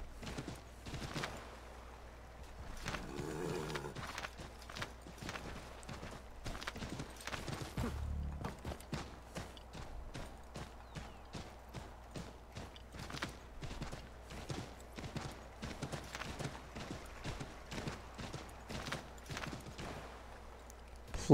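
Rapid, steady clip-clop of horse hooves in Assassin's Creed 3, a near, even trotting rhythm that runs throughout, with a brief low thump partway through and no talk over it.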